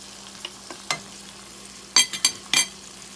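Anchovies fry and break apart in a pan for a seafood pasta, with a quiet sizzle under a few sharp scraping clicks that bunch together near the end.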